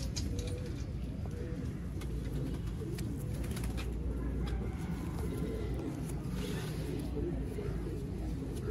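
Mian Nazir bloodline pigeons coo in low, repeated throaty rolls nearby, layered and continuous, with faint chirps and some background murmur.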